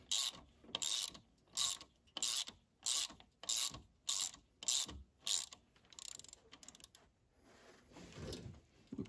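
A ratchet works bolts on the valve springs of a 12-valve Cummins engine, clicking in about ten even bursts, close and crisp, then settling into softer, irregular rubbing.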